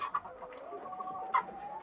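Soft clucking from a chicken, a few short calls close by in a quiet setting with a faint background hiss.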